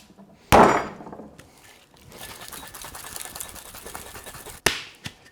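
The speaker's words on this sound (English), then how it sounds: "now we'll just give this what's called a dry shake without any ice" A White Lady cocktail is dry-shaken in a cocktail shaker without ice: a sharp clack as the shaker closes, a few seconds of steady liquid sloshing, then another crisp clack as it opens.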